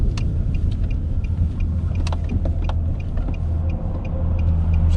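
A car rolls slowly into a small parking lot on an access road near an abandoned railroad grade, with a steady low engine and road rumble heard from inside and light ticks and rattles over it.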